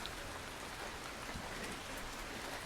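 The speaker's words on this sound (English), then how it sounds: "Can you guys hear the rain?" Steady rain falls continuously, a dense hiss of drops on a surface with no voices.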